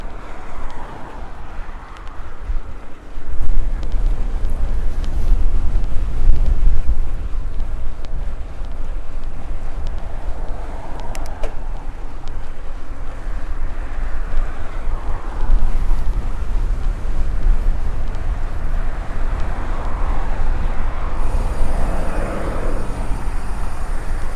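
Steady low-pitched wind buffeting the microphone while cycling on a road bike, a constant roar with gusts rising and falling throughout, with no voices present.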